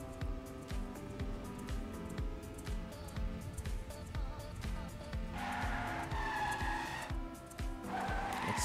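Race cars in a racing video game at a Singapore Grand Prix event, engines droning continuously with repeated tyre squeals and skids, loud and sustained throughout.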